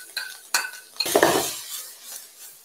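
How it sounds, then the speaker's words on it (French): Onion, carrot and celery being sautéed in a pan for chow mein: a few sharp clinks of utensils, then a burst of sizzling as the vegetables hit the hot pan and fade to a softer hiss. "On va sauter les légumes."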